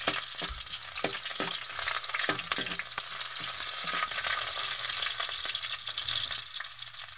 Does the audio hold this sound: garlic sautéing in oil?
yes